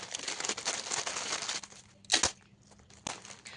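Packaging crinkles and rustles close up while clothing orders of mekhela sador are packed, a cluster of quick crackling bursts with a louder crunch near the middle and quieter gaps.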